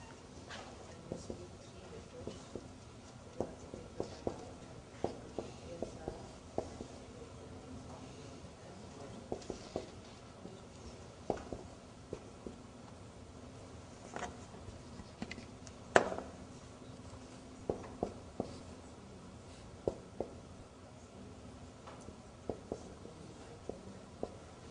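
Marker or chalk writing on a board in a classroom, with a steady scatter of short scratchy strokes and taps in soft, near-continuous bursts across the whole stretch.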